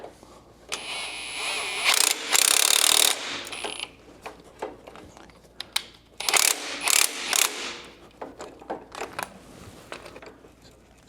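Ratchet and socket tightening the bolts on a QA1 spring compression tool: bursts of fast metallic clicking in several spaced strokes, close and fairly loud, separated by quieter gaps of small handling noises.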